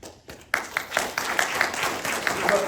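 An audience at a Tamil oratory event applauds after a short quiet gap, a burst of scattered hand clapping that carries on steadily in a hall.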